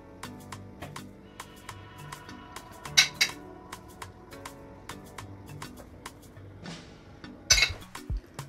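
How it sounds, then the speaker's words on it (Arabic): A frying pan being washed in a home kitchen, with a steady patter of running water, light clinks, and two sharper metallic clatters of the pan against the sink, close and moderately quiet. "غسلت القلاية نتاعي"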